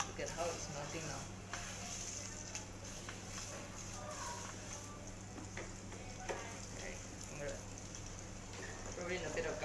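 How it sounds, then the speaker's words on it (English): Steady sizzling and crackling of Wagyu rump fat frying in a pan, continuous throughout, with faint background hum. "Hear that sound, the sizzling sound."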